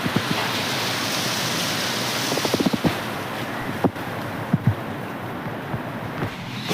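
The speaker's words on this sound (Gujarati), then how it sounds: "બહુ ફાસ્ટ વરસાદ આવે છે" Heavy continuous rain pouring down outdoors, a dense steady hiss with a few brief knocks and drips over it, no talking.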